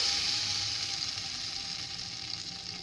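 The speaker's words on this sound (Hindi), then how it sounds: "अब मैं इसका तड़का हरीसा में लगा रही हूँ" Browned fried onion tadka poured into a pot of harees sizzles and crackles steadily, close and moderately loud, with no one speaking.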